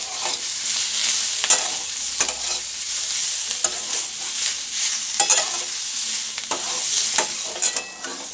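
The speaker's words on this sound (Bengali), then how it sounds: "আলু আর পেঁয়াজকলিটা ভাজা আমার হয়ে গেছে।" Potatoes and spring onion greens fry in a pan for a Bengali dish, a continuous bright sizzle with occasional scraping stirs and small crackles, close and steady without speech.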